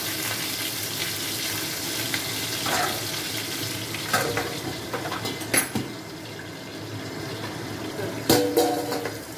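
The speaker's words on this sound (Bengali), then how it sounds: "এই মাছটা ভাজা হয়ে গেছে" Crackling oil spits and sizzles under a low hiss as pieces of foloi fish fry, with sharp pops and a few clinks of a utensil; a faint voice murmurs now and then.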